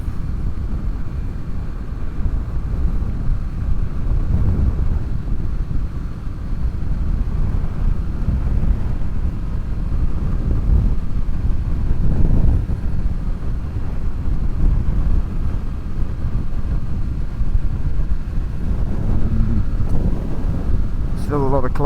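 Wind buffets a microphone outdoors on a windy, cold evening, a constant low rumbling roar that swells and eases throughout, with faint voices underneath.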